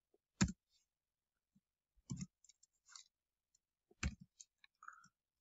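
Code being typed on a computer keyboard comes through as sparse, crisp keystroke clicks in three short bursts separated by near-silence, close and clear with no voices.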